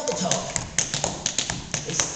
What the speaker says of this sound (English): He shows them an Irish double toe.